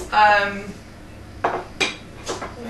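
An ordinary cooking pan is set down and handled, giving a scraping clatter followed by a few distinct metallic knocks and clinks close by, before sauce is made in it.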